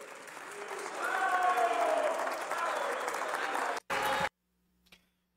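Applause in the Mexican Senate chamber during a vote, a broad wash of clapping that swells and holds for several seconds before cutting off abruptly.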